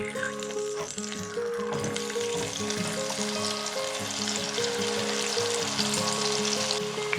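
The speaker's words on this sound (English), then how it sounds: "Fry the aubergines for around 30 seconds." Aubergines fry in hot oil for Chinese dì sān xiān, a loud, even sizzle with fine crackling that runs without pause, a low tonal hum beneath it and no speech.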